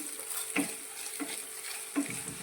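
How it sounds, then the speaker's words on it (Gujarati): Garlic and ginger paste sautéing in a pan for ringan no olo, a soft continuous sizzle with three spoon strokes scraping at regular intervals, close and alone without talk. "એક ચમચી જેટલું તે અંદર લઈ લઈશું અને તેને પણ આપણે થોડું સાતરી લઈશું"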